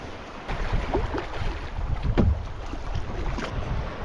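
Fast, shallow river water churns beneath a canoe, with scattered knocks and scrapes of rocks against the hull over steady wind noise.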